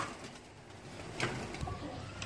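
Pigeons cooing softly in a low murmur, with brief louder coos rising near the middle and end, set among pigeons kept for pigeon flying, with faint background noise.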